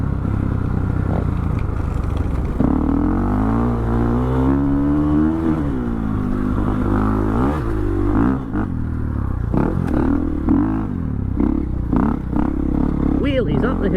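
A KTM EXC dirt bike revs hard and climbs a hill on a wooded motocross track, its engine note rising and falling under wheelies and loud wind buffeting, with a rider's voice heard over it.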